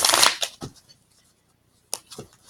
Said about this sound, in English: Let's go ahead and give it 3 shuffles and pull off the top for my fire sign.